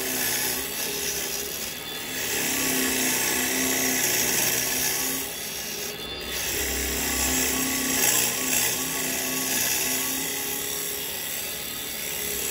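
Carbide woodturning tool cutting a wooden bowl spinning on a lathe, a steady close scraping whir with gentle swells as the tool eases in and out, with no speech.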